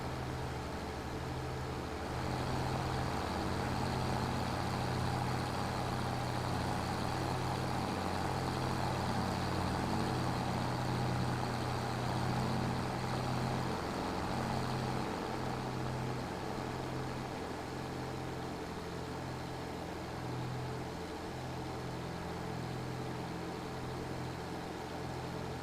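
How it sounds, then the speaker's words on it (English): Engine of an old tractor in a farming video game, heard from inside the cab. A loud, steady low drone with a constant rumbling hum runs unbroken throughout, with no voices. "loud tractor, this one. You would have thought inside the tractor would have been quieter, wouldn't you? It's not."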